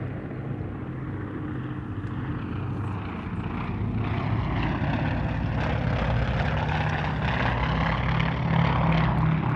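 A Tracker propeller warbird of the Royal Australian Navy's historical flight drones overhead at an airshow, its engine roar steady and growing slightly louder as it approaches, with no talking.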